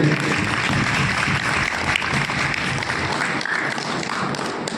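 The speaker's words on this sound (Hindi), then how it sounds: "एक बार गीता प्रचार समिति की तरफ से इनके लिए तालियों से इनका स्वागत करें।" Continuous dense applause from an audience at a Gita recitation prize ceremony in a guest house hall, loud and steady throughout with no pause.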